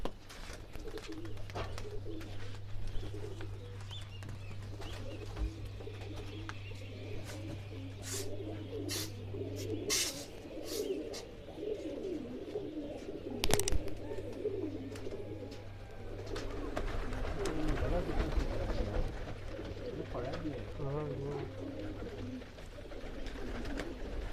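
A chitra pigeon coos in repeated low, rolling phrases over a long stretch, moderately close amid faint background noise and occasional sharper clicks, with no clear speech.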